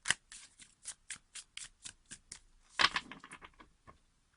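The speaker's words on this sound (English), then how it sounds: "Okay, some reshuffling." Tarot cards riffled and reshuffled by hand, a run of a dozen quick papery bursts in steady rhythm with one louder flurry near the end, close and alone.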